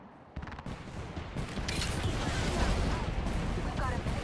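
Rapid gunfire in Apex Legends during a firefight, dense bursts and volleys running continuously and fairly loud, with speech also present.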